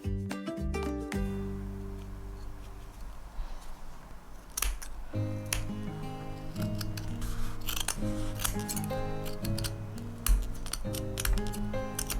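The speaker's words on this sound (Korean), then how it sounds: "그런 후 가위로 바짝 잘라내고" Small scissors snipping embroidery thread on a handmade embroidered lamb doll, a series of crisp close clicks and cuts scattered over a quiet background with faint soft music.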